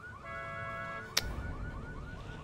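A car alarm set off in the video game The Walking Dead: Survival Instinct wails in repeating rising tones, cut by a sharp bang partway through, then keeps cycling under game noise.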